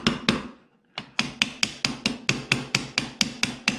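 Light metallic hammer taps on AR-15 rifle trigger parts in a steady rhythm, about a dozen sharp strikes after a short pause, close and crisp.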